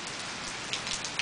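Steady heavy rain pours during a storm, a dense close hiss of drops on surfaces with a few brighter spatters toward the end and no voices.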